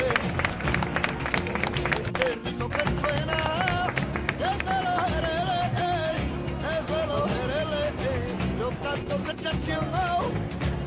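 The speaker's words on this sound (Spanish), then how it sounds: "¡Fuerte aplauso para el jinete individual!" Crowd clapping at a Spanish town fair during an awards moment for horse riders, loud music with a sung or melodic line dominating and applause mixed underneath throughout.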